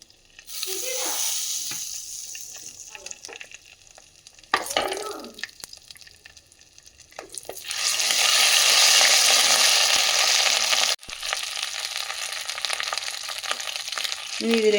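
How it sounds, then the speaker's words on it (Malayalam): Ginger garlic paste fries in melted butter and coconut oil in a clay pot, a loud bright sizzle that surges midway, then settles, broken by brief clatters and quieter stretches. "ഇതിലേക്ക് കുറച്ച് ജിഞ്ചർ ഗാർലിക് പേസ്റ്റ് ചേർത്ത് കൊടുക്കുകയാണ്."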